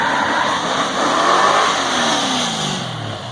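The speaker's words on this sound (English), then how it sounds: "now that I'm talking about the Plymouth Roadrunner, here comes one right now" A Plymouth Roadrunner muscle car roars past, its engine revving loudly and rising in a steady pass, then its pitch drops as it pulls away.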